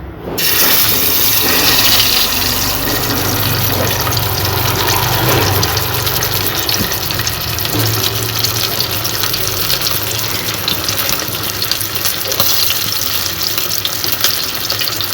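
Chicken pieces fry in hot oil, a loud, dense, continuous hiss and crackle that holds steady for the whole stretch, with no talking over it.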